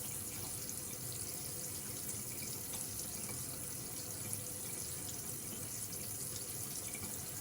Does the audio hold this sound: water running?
yes